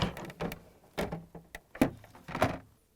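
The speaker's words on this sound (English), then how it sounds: "Then we're going to lift up the drawer and we can remove it." A plastic drawer on a Samsung refrigerator rail assembly is lifted and pulled free, producing a series of close, sharp knocks and scraping clunks spaced irregularly, with no talk.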